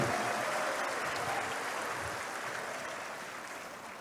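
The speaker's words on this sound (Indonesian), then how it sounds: "Berikan tepuk tangan yang paling meriah." Dense, continuous applause from a large audience at a Democratic Party official installation ceremony in East Java, heard at a distance and fading slightly over the span, with no talk.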